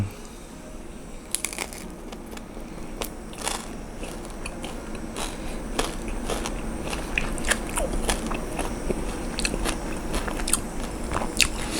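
Crispy pork skin dipped in shrimp chili paste is bitten and chewed close up, giving repeated sharp crunches and crackles over a low steady background.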